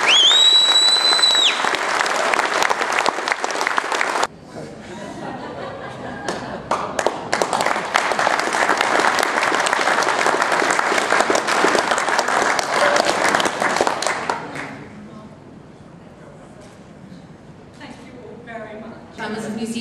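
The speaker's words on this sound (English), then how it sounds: "Give her a round of applause." An awards ceremony crowd gives a sustained round of loud applause for the winner of the 2009 agriculture personality award, with a voice speaking over it before the clapping fades to talk.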